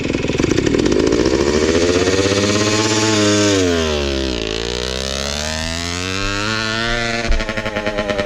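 Motorcycle engine revved by a learner during a riding lesson, close and loud, pitch climbing then dropping and rising again before settling into uneven chugging idle.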